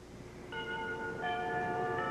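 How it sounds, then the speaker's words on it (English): A doorbell chimes with clear ringing tones, a first note followed by a second, sustained and ringing out over a quiet background. "That's the doorbell."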